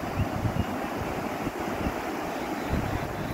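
Excess water rushing downstream in a steady, loud, broadband roar, close by and unbroken, with a low rumble beneath and no voices.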